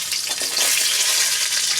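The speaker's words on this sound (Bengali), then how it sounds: "আলুগুলো হালকা ভেজে নেব" Potato pieces frying in hot oil with whole cumin, bay leaf and green chilli, a dense steady sizzle with light stirring scrapes, loud and close, no voices.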